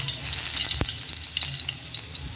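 Aromatics sautéing in a hot pan for Filipino chicken tinola give a loud, steady sizzle and crackle throughout, with occasional sharp clicks and scrapes from stirring and no talking.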